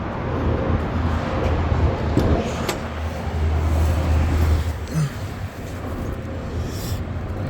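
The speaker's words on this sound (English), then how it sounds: "I'm gonna take it for a test drive right now" A 2002 Ford F-350 truck on a road test after an alignment gives a low, rumbling in-cab drone of engine and tire noise, with a few knocks and rattles over the steady hum.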